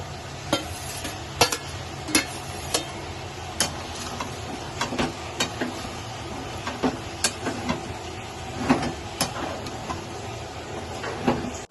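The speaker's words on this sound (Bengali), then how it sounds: "এবার এটাকে ভাজছি।" Rice fried in a pan with soy sauce, a soft continuous sizzle under a regular series of sharp spatula scrapes and taps against the pan, close and without talk.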